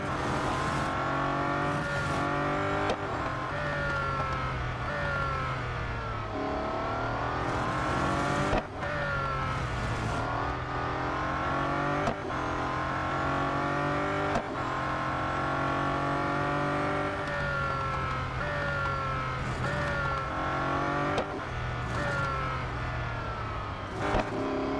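A Bugatti Centodieci in Real Racing 3 racing at Indianapolis, its engine howling loudly through repeated upshifts, each gear rising in pitch before a sharp drop, with occasional tire noise and no talking.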